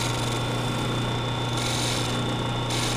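Wood lathe parting off a small piece from a turned lidded wooden box, a steady loud motor hum with a continuous scraping, rasping cut running throughout and no talking.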